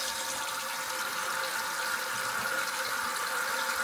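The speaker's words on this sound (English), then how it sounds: "I'm gonna turn the water on and see if it leaks and if it works." Toilet tank refilling after a fill valve repair, water hissing and rushing steadily into the tank, close and continuous.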